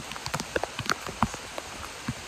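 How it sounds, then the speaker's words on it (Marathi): Heavy rain falling on a forest trail during a monsoon jungle trek up to Karnala Fort, a steady soft patter scattered with sharper nearby drips and splashes, no voices. "मित्रांनो, पाऊस वाढला अजून"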